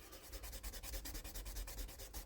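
A Bowie knife handle gets sanded by hand in quick, even back-and-forth rubbing strokes, close up and soft, with no voices.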